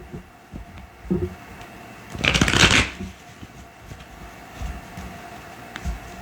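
A deck of cards is shuffled once in a single brisk riffle about two seconds long. It sounds close and fairly loud over a quiet background, with a few faint taps before and after.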